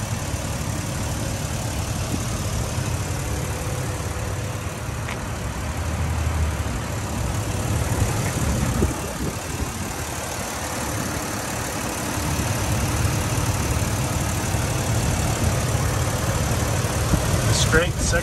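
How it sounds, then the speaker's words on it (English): A 2006 Jeep Wrangler's 4.0L six-cylinder engine idles with a steady low rumble throughout, slightly rising and falling, while someone talks over it. "Six-cylinder motor, a legendary Jeep motor"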